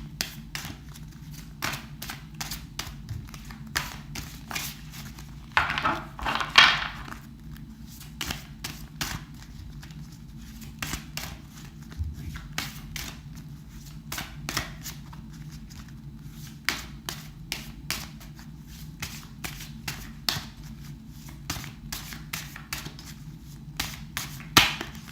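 A deck of tarot cards is shuffled by hand in repeated quick riffling bursts and soft taps, close and crisp against a quiet background with a low hum underneath.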